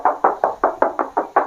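Eight even knocks rapped by hand on the metal hood panel of a 2019 Toyota Rush TRD Sportivo, close and hollow-sounding, spaced at a steady rhythm with no voices over them.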